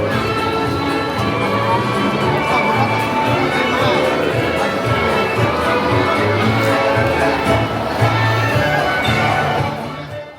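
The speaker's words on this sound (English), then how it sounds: "At this point, we've been waiting in a crowd outside in the sun for an hour or so" A large crowd waits outside a Tokyo theme park in the sun, a loud, continuous murmur of chatter and shuffling footsteps with nearby voices blending into the din.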